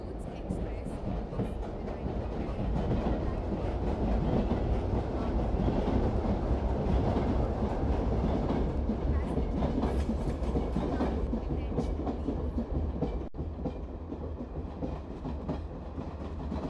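An Indian Train Simulator game renders a WDG-3A-hauled passenger express rolling on rails, a continuous rumbling clickety-clack that stays steady and fairly loud throughout, with a platform announcement voice heard over it.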